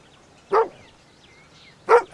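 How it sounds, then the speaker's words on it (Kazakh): Two single dog barks, sharp and fairly close, spaced more than a second apart against a quiet background. "Ит."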